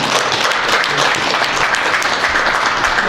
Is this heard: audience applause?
yes